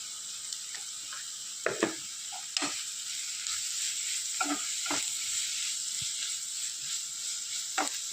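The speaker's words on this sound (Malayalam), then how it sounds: "ഈ പൊടികളുടെ പച്ചമണമൊക്കെ മാറി വരുവോളം നമുക്ക് മിക്സ് ചെയ്ത് കൊടുക്കാം. നന്നായിട്ട് വഴറ്റി കൊടുക്കാം." Spice powders sauté in a pan for an egg mappas curry, with a soft steady sizzle under intermittent scraping strokes of a stirring spoon, fairly quiet and close.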